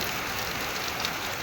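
Heavy monsoon rain in a village, a steady dense hiss of pouring water that is loud and unbroken throughout, with no voices.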